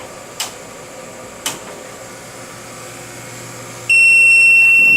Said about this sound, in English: You get the typical alarm for power failure.